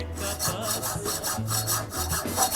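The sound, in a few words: hacksaw cutting a piece of metal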